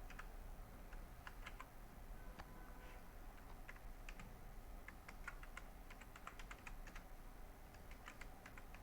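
Rapid, irregular keystrokes on a computer keyboard while entering text into a table in MS Word, the clicks crisp and close against a steady low background hum, with no voices.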